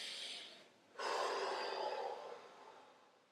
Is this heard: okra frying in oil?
no